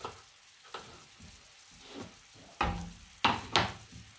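Onions sauté in a pan for tuna pasta, giving a quiet, steady sizzle broken by a few sharp stirring clatters that grow louder toward the end.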